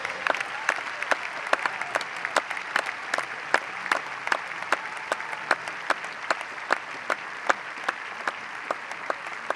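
A church congregation claps in a fast, steady rhythm, many hands striking together in sharp, evenly spaced bursts over a roomy crowd murmur.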